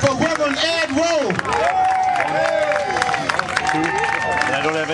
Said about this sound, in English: let's have a warm round of applause for Reverend Ed Rowe